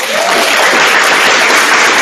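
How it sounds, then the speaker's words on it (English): A board meeting audience gives a loud round of applause, dense and steady clapping that fills the room continuously from start to finish. "would love to give her a round of applause"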